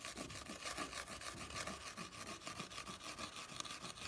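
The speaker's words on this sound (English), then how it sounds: "just take my crystal polishing stone here and just start burnishing the whole bowl," Crystal polishing stone burnishing a clay bowl, close, quiet rhythmic rubbing strokes repeating steadily.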